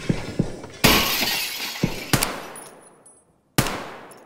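Several sharp gunshots ring out in Escape from Tarkov, spaced irregularly across the clip with bright cracks and short decaying tails, including a couple of louder blasts and a final shot after a brief near-silence.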